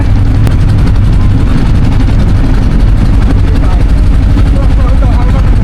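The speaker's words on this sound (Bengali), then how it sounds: "নৌকা চালাচ্ছে" A motor boat engine runs steadily on a river, a loud, continuous low droning rumble close by that fills the whole stretch.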